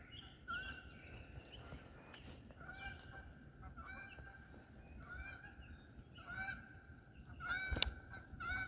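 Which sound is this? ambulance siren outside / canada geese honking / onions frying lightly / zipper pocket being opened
canada geese honking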